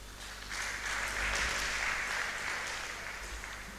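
A debate tournament audience claps for a debater, a moderate crowd applause swelling slightly in the middle and then holding steady, heard over a low room hum.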